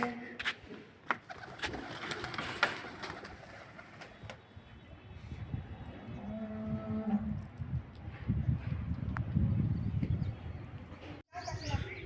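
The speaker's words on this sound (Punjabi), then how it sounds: "ਤੇ ਆ ਕਬੂਤਰ ਹੈ ਤੇ ਆ ਬੈਠਾ" A pigeon perched close by gives soft low cooing in short repeated phrases, mixed with other bird calls and outdoor background noise, while people talk nearby.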